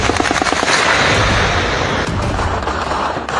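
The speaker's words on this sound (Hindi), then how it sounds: "पहला फायर, दूसरा फायर, तीसरा फायर" Rapid, dense gunfire during a violent crackdown on protesters in Pakistan-occupied Kashmir, sustained bursts of shots crackling together at close range for several seconds with no voices.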